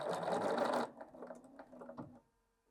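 A Bernina 770 QE Plus sewing machine stitches a quarter-inch seam in a fast, steady burst of close mechanical whirring lasting under a second, followed by softer clicks and taps as it stops.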